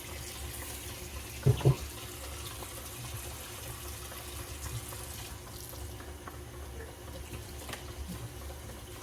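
Dishes being washed under a running kitchen tap, a soft steady flow of water with a couple of brief clinks early on, fairly quiet and distant.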